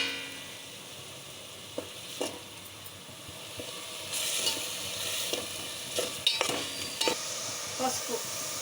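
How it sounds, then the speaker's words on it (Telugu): Green chillies and tomato pieces sizzle in hot oil in a pan for a chicken curry, a soft steady frying hiss broken by scraping stirs and clinks of a utensil. "పచ్చివాసన పోయే వరకు ఫ్రై చేసుకోవాలి ఆయిల్లో"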